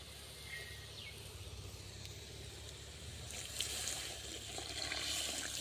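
A low, steady stream of water runs and splashes into a cooking pan, continuous and fairly quiet, with no voices.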